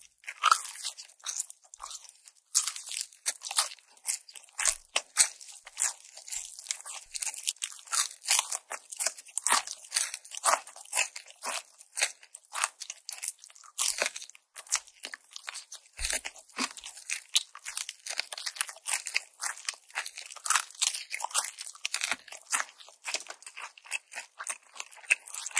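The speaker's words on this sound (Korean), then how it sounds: "양념이 묻어져 있는데도 바삭해요." Close, crisp crunching and chewing of sauced Korean fried chicken with honey coating, rapid repeated bites and crackles continuing steadily, sharp and intimate, with no talk.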